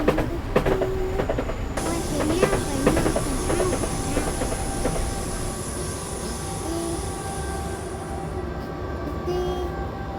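A train passing in the Train Simulator 2015 video game, a continuous loud rumble of wheels on rails with rhythmic clacking, a long high hiss and a few brief squeals, with a voice speaking near the start.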